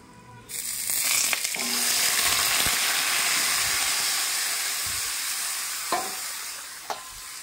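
Rice tipped into plenty of hot oil for khichuri bursts into a loud, steady sizzle and hiss that holds for several seconds, with a few faint stirring scrapes near the end.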